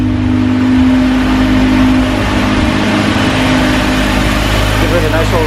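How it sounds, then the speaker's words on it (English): A Mazda RX-7 rotary engine revving in neutral, a loud, steady, close engine drone with a slight swell in the first couple of seconds, with a voice speaking over it. "Give her a nice old rev."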